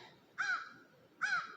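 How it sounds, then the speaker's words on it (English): Crows give two separate harsh caws about a second apart, each a short, rasping call that sounds somewhat distant and faint against a quiet background. "These crows aren't filming."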